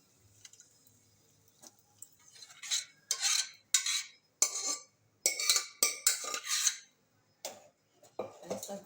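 Dal is stirred into thick gravy in a pot, giving a series of close, loud scraping strokes with short pauses between them and light clinks of a spoon.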